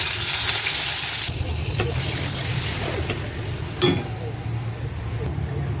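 A tablespoon of onion paste sizzles in a hot pan, a loud hiss that eases after the first second, with spoon knocks near two, three and four seconds.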